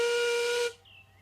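A steam engine's whistle lets off one loud, sustained blast with a hissing edge, cutting off abruptly after well over half a second, followed by a faint trailing hiss of steam.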